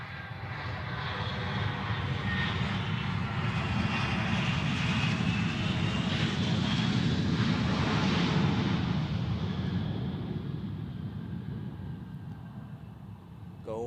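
A Bombardier Challenger 350 business jet comes in to land at Zurich Airport, its engine roar building steadily and staying loud and near for several seconds before easing off, with faint talk underneath.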